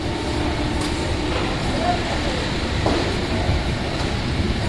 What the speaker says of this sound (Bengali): প্রায় 20 মিনিট লেটে ট্রেন ছাড়লো।